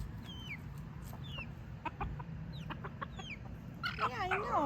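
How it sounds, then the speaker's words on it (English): A baby chick peeps in short high chirps while a mother hen clucks softly nearby, outdoors in a free-range chicken yard, with low background rumble and a burst of overlapping peeping toward the end. "You still have a cute little chicky sound."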